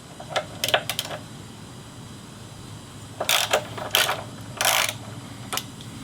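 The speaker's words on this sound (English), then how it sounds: "Next, we're going to loosen the axle pinch bolt." A ratchet loosens the front axle pinch bolt on a Yamaha FZ09/MT09 motorcycle in short bursts of quick, close clicking separated by quiet pauses.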